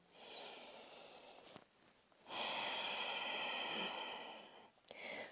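Slow, deep breaths during a yoga session, a long airy inhale or exhale, a pause, then a longer, fuller breath close to the microphone, soft and unhurried.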